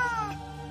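A person imitates a cat with a short, brief meow that slides downward and fades quickly, close and fairly quiet, during the telling of a Puss in Boots story.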